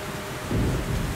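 Thunderstorm with rain in the video game Metro: Last Light: a steady wash of rain, then a deep rolling rumble of thunder swells midway through and holds loud to the end.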